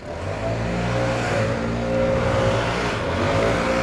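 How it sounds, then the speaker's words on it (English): Leaf blowers clearing hedge trimmings from a street, a steady loud engine drone holding without pause, near and continuous. "Boys are just blowing, that's why you can hear the blowers."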